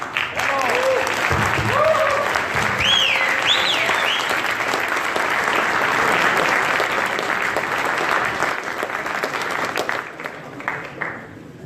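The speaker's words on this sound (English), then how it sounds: "give a massive round of applause for Paul McCarthy" A large audience at a 2017 London cryptocurrency event stands and applauds a speaker, a dense, loud, sustained roar of clapping with a few whistles and cheers, easing slightly toward the end.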